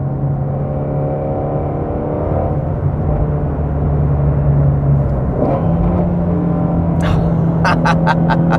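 A 2020 Ford Shelby Mustang GT350R engine rumbles steadily at idle and low revs, loud and close, with a brief throttle blip and sharp repeated pops or clicks near the end.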